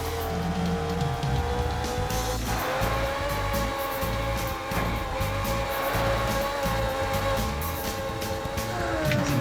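Racing car engine in the OutRun Online Arcade video game, a steady droning motor whine with shifting pitch over a constant electronic backdrop, loud and continuous for the whole stretch.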